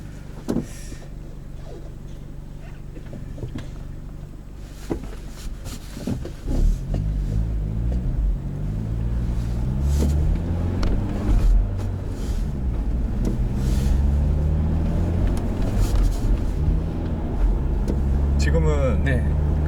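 A Genesis Coupe 2.0 with a manual gearbox drives along, its engine a low steady rumble that rises and shifts pitch through gear changes, with people talking inside the cabin throughout.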